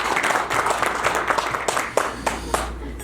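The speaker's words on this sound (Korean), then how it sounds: "박수로 모시겠습니다." An audience claps at a tourism association's year-end party in a hotel hall, with steady moderate applause and a few voices murmuring underneath.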